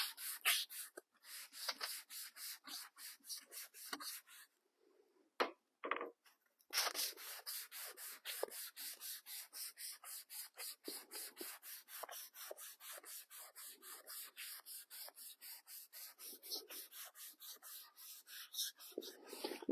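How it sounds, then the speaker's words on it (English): Sandpaper of 180 grit rubs along the grain of a turned wood piece in steady, rhythmic back-and-forth strokes, close and fairly soft, with a few brief pauses before the even scratching resumes. "Sand with the grain"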